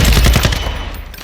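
Sakin MG38 light machine gun firing in Call of Duty DMZ, a loud close rapid burst of booming shots that cuts off and fades within about a second.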